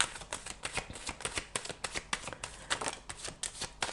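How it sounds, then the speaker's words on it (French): A tarot deck is shuffled close up while a card is drawn, a quick, even run of crisp card flutters and snaps lasting several seconds with no speech. "Je vais tirer une dernière carte."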